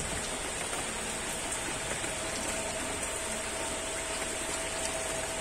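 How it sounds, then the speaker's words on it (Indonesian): Steady rain hisses down on outdoor concrete catfish ponds, a continuous wash of drops on water with no pauses and no voices. "Hari ini lagi hujan Lur."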